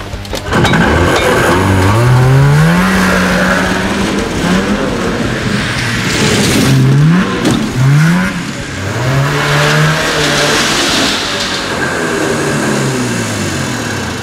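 A Super Twin rock rod engine revs loudly and continuously, its pitch climbing and falling in repeated throttle blips over a steady mechanical roar, close to the listener with no talk.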